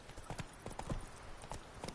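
Hooves of Geralt's horse Roach in The Witcher III, a quick, even clip-clop of footfalls at a walking gait, fairly faint and with no talking.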